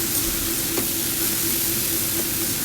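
A vegetable bhaji sizzles steadily in a pan, a soft, even hiss of frying with faint stirring clicks, close and continuous with no voices.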